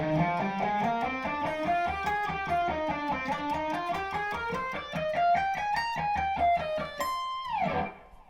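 Electric guitar plays a fast alternate-picked arpeggio run, every note picked starting on a downstroke, in a continuous stream of clean single notes that climb and fall for about eight seconds before a brief final flourish.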